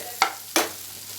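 Bitter gourd slices roasting in a pan, with two short bursts of stirring scrapes and sizzle standing out against a quiet, steady background.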